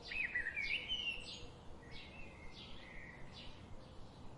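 A finch sings a series of short, bright chirping phrases repeated at a fairly even pace, clear but soft against a quiet background.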